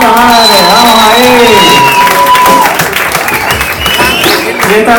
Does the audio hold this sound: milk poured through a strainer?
no